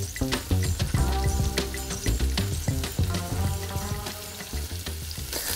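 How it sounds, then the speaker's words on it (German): Sliced onions frying in a pan, a continuous close sizzle with scraping and clinking from stirring over a steady bed of kitchen noise. "nun geben wir die geschnittenen Zwiebeln in die Pfanne"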